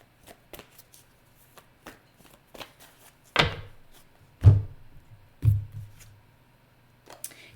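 Tarot cards being shuffled by hand during a reading, a few soft riffles and slaps standing out near the middle against quiet light handling, with no talking.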